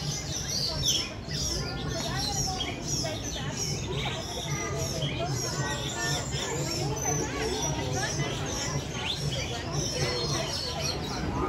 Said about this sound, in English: It is just amazing being around this many birds.